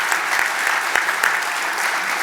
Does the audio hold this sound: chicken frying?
no